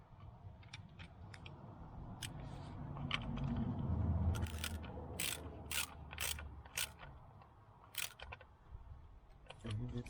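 A drain plug threaded by hand into a rear differential housing gives light mechanical ratcheting clicks and scrapes, with a few sharper metallic ticks near the end, quiet and close, under low background rumble.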